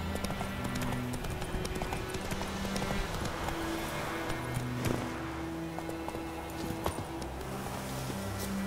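Roach, a horse in The Witcher 3, gallops with rapid continuous hoofbeats over a busy game soundscape with tonal music, a brief voice urging the horse on.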